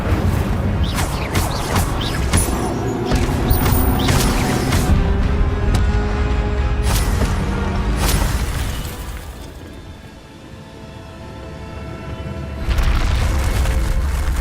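Incendio fire spell in Hogwarts Legacy: repeated loud whooshing bursts and booming impacts crowd a dense, continuous roar of combat noise, easing off briefly near the end before another heavy surge returns.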